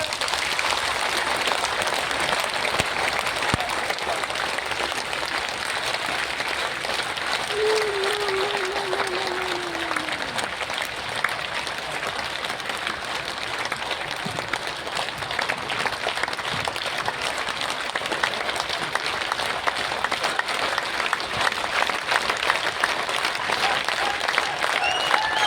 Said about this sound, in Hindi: अब दोनों हाथ ऊपर करके ताली भी बजाओ।